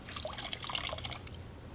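Water trickling and dripping from a clean, soap-free washcloth during a rinse, soft continuous splashing close by with no talk.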